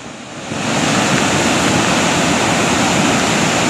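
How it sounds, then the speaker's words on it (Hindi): Flash flood after a cloudburst near Lunekh, with floodwater rushing at Luniya Ghat where the Mahed and Dyothal streams meet, making a loud, steady, close roar of churning water with no voices. "यहाँ अति से अति भारी बाढ़ आ गई है।"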